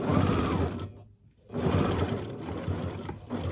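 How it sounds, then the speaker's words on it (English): A sewing machine stitches across the top of a fold in shifty, slippery fabric for kimono-style sleepwear, running in a close steady whir that stops briefly and then starts again. "I will come to the machine and stitch across the top"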